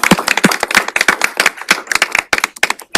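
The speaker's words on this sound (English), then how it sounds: "Give him a round of applause." A small audience at a Thurston County Board of County Commissioners meeting gives a brief round of applause, with scattered, uneven hand claps close by in a room and no voices over them.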